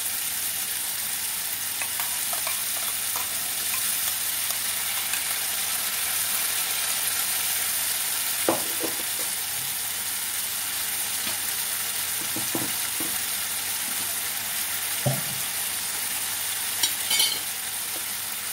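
Tomato paste and ground spice paste sizzle in hot oil with a steady, even hiss throughout, broken now and then by a faint scrape or knock of a spoon against the pan.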